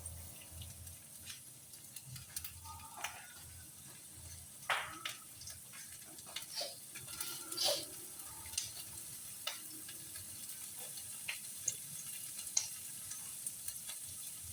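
Quiet, continuous frying hiss from a pan of chopped onion and Vietnamese sausage, dotted with small pops, ticks and occasional utensil clicks.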